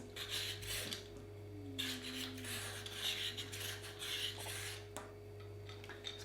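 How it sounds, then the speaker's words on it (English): A potato is rubbed back and forth on a grater, giving repeated quiet rasping strokes in a steady rhythm over a low electrical hum, close by and with no talking. "You can indeed grate both ways while I grate my potato."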